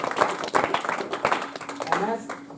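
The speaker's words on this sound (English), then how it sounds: "so give him a round of applause" Brief burst of applause from a Toastmasters meeting audience, rapid dense claps that swell and then thin out over a couple of seconds, fairly close.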